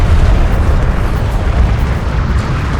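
A destroyed vehicle explodes in Homeworld: Deserts of Kharak, giving a loud, dense rumbling blast that roars steadily for a few seconds with no voices over it.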